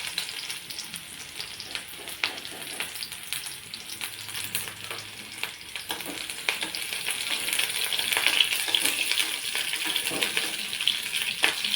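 Onions fry in a pan with a soft, continuous sizzle and faint crackles that grow slightly louder toward the end.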